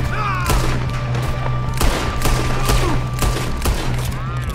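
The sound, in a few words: gunfire in the Red Dead Redemption 2 video game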